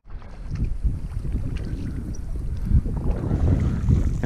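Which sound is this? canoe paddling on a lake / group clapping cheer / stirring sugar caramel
canoe paddling on a lake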